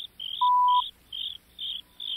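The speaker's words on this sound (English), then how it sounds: "Soon there were three crickets chirping." Crickets chirp in a regular pulsing rhythm, short high bursts repeating about every half second, clear and close, with one brief steady electronic tone underneath early on; a sound effect in a children's story.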